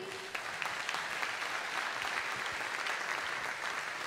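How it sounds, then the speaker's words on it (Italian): An audience at a live show in Sardinia applauds a guest walking on stage, a steady, dense wash of clapping that holds evenly throughout. "un applauso per lui"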